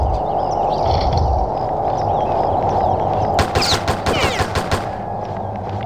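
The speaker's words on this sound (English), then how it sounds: "Oh no, don't use the shotgun." Shotgun fire in the video game Postal: a burst of loud, closely spaced blasts over a couple of seconds, rising above a constant droning game background.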